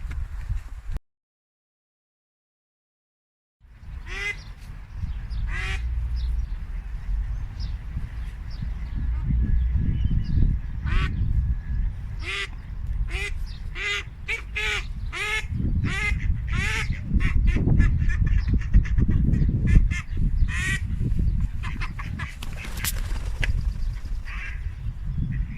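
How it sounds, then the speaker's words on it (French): Ducks squabble by the river Yonne, a run of loud, harsh honking quacks coming in rapid bursts after a brief silence, with flapping and splashing beneath, close to the listener. "après une bonne baston entre canards"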